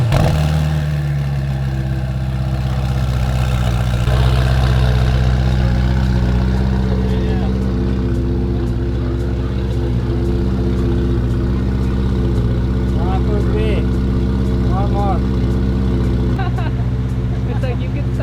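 A Ferrari 488 Pista's engine fires up with a loud burst and then settles into a steady, throbbing idle close by, while people talk excitedly over it.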